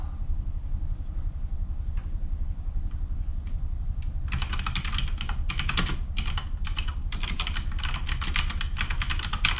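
Quick, uneven bursts of typing on a computer keyboard start about halfway through, following a few seconds of low, steady room hum. The keystrokes sound close and clear, with no talking.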